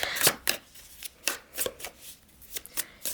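Playing cards riffle and snap in a series of quick, crisp bursts, close up and alone, with short pauses between shuffles.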